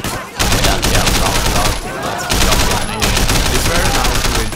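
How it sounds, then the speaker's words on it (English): Shotgun and other gunfire erupt in close-quarters urban combat in Sleeping Dogs: Definitive Edition, loud dense blasts crowding together almost without pause for several seconds, with brief dips between volleys. "Shotgun when you're up close"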